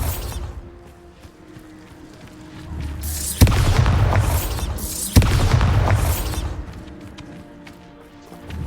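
Two heavy explosive blasts from the Bombarda spell in the video game Hogwarts Legacy, each a sharp boom followed by a roaring, crackling rumble that lingers over low ambient background.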